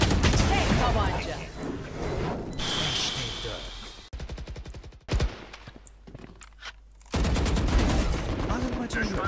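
Rapid bursts of gunfire from the video game Valorant come in loud clusters with mechanical clicks between them, mixed with game sounds and a voice talking in places.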